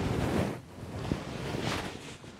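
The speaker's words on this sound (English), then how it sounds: "man, it's getting windy." Gusty wind buffets the microphone in loud, rough surges, rising and falling for a couple of seconds with no voices.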